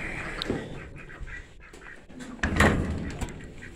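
Four homestead ducks quack in scattered short calls at a barn, mixed with a bump and a door-like thud partway through, with light background noise.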